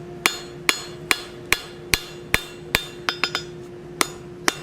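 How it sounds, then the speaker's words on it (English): A blacksmith hammers hot steel with a cross peen hammer, a dozen sharp ringing metallic strikes landing in a steady rhythm, close and loud, with a quick double tap near the end. "we will use the cross peen to pull those lobes down"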